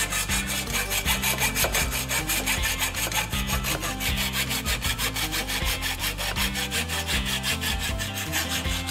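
Hand saw cutting through a tube for an outdoor xylophone, with loud, regular back-and-forth rasping strokes at a steady rhythm and no talk.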